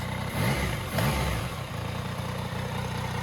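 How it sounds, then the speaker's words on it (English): A motorcycle engine idles close by and is revved twice in quick succession during a throttle body sync, each blip rising and falling before it settles back to idle. "then we're just going to give it a few good revs."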